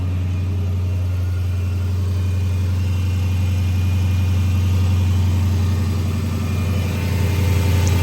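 A Dodge Challenger 6.1 Hemi V8 fitted with a Spectre cold air intake and red filter idles steadily and loudly nearby, a deep constant rumble with no talking.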